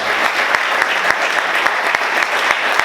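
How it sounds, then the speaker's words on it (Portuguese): A church congregation claps loudly and steadily during a Portuguese-language worship service, a dense, continuous wash of applause with scattered sharper individual claps and no talk over it. "Aplauda o Senhor!"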